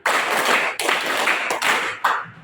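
Classroom students clap together in a counting game, giving three or four loud, dense bursts of group clapping in quick succession with short breaks between.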